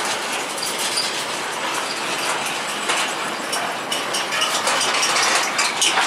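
Riding inside the driver's cab of a running D6 locomotive near a level crossing, a dense, continuous rumble mixes with mechanical rattling and clanking that stays close and loud throughout.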